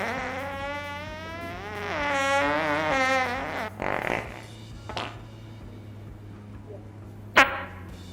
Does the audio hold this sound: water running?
no